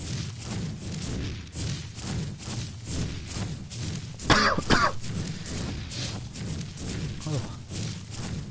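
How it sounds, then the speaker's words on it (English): A short burst of coughing stands out around the middle, loud and close, over a steady low background hum with faint rhythmic thumps. "I have some sort of cough."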